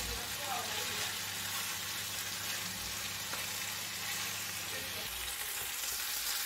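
Mutton frying in a pan on high flame makes a constant, quiet, even sizzle with a low hum under it and no distinct stirring strokes.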